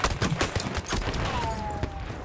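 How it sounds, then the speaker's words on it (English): Rapid gunfire in Battlefield 1 Domination mode, overlapping rifle and machine-gun shots cracking in quick irregular bursts, some close and loud, with a thin whistling tone passing midway. "So all these people are shooting."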